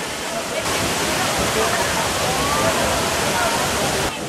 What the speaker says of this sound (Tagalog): So, ito yung Tangadan Falls.